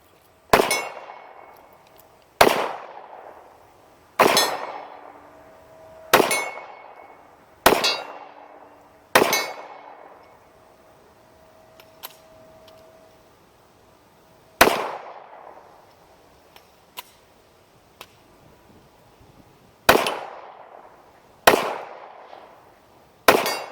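Shots from a Springfield 4.5 .45 ACP pistol ring off steel targets in a steady series of about a dozen sharp, loud clangs, each decaying with a metallic ring, with a pause midway and faint small clicks between.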